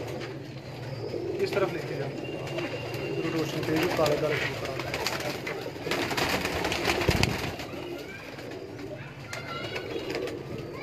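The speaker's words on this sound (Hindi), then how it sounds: "ये दोस्तों कबूतर है इनके पास माशाल्लाह" Pigeons kept by a breeder near Delhi Gate in Lahore's walled city coo softly in the background while someone talks close by, with a few brief handling noises.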